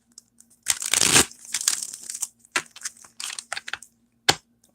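A deck of reading cards is shuffled during a psychic reading, giving loud, close bursts of riffling and rustling card stock, a long crackling run followed by several shorter snaps and flutters.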